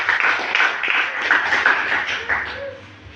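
A church congregation clapping for Jesus during a sermon: dense, loud, sustained applause from a crowd, rolling steadily for about three seconds with a faint voice underneath.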